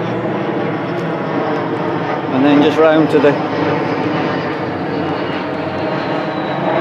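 Over a garden with bulb beds, an aeroplane overhead drones steadily throughout, while someone speaks briefly in the middle.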